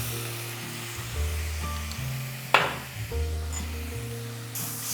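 Sugar and vinegar going into a pan of prawn pickle in hot oil, with a low steady sizzle under a persistent hum, one sharp splashing hiss in the middle and a faint spray toward the end.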